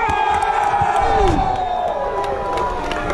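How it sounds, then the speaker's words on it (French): A crowd cheers and shouts for a team at a competition field event, loud and continuous with whoops and some claps, while a voice speaks over it. "On applaudit la Tanasie."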